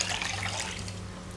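Water pours into a pan holding cardamom powder and a pinch of saffron for jalebi syrup, a brief, close, steady splashing gush with no talk.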